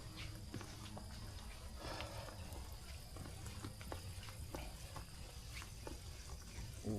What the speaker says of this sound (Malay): dia punya penjagaan dia tu sentiasa ada air pipe yang mengalir